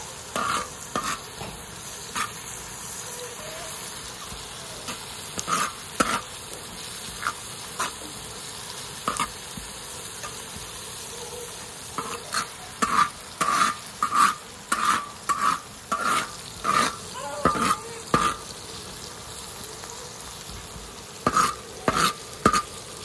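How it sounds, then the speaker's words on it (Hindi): Masala frying and being stirred on a tawa before liver goes in, a constant near sizzle with clusters of sharp scraping and clanking stir strokes, busier toward the end, with no talk. "फिर हम इसमें कलेजी डालेंगे।"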